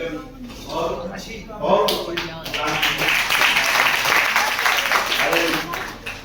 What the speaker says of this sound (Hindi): ये तालियां बहुत कम है।